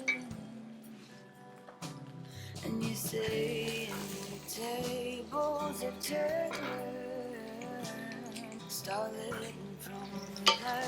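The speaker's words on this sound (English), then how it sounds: "And just stir frying the onions until it's cooked down." Onions sizzling while being stir-fried in a pan for Taiwanese beef noodle soup, with frequent clinks and scrapes of a utensil against the metal.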